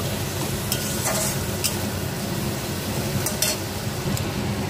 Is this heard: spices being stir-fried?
yes